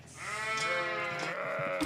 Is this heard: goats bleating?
yes